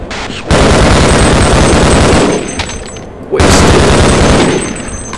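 Gunfire in Half-Life, two long, loud bursts of rapid automatic shots with a brief lull between them, close and dense.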